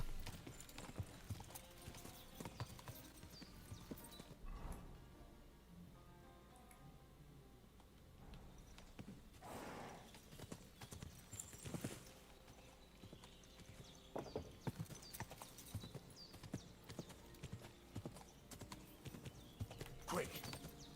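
Horse hooves clip-clopping in Kingdom Come Deliverance II, a steady rhythmic trot of hoofbeats throughout, moderately close, with game sounds and some speech mixed in.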